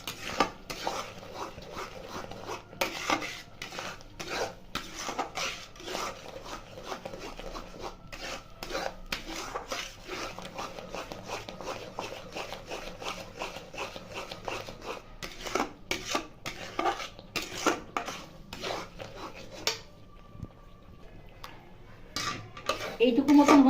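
An orange halwa mixture with ground pepper and dry fruits is stirred in a pan, a spoon repeatedly scraping and clinking against the metal in a steady rhythm close by, with no voices.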